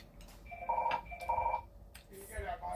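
A telephone rings in a home kitchen during no-bake strawberry cheesecake preparation, with repeated electronic ring tones in two bursts over steady room noise and voices nearby.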